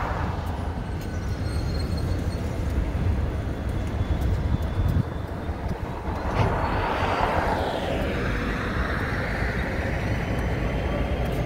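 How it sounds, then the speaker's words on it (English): Freight train ELS 502 with four gondolas rolling north past a crossing in Wisconsin: a steady low rumble of wheels and cars, with a rising whine building near the end. "ELS 502 with four gondolas rolling north."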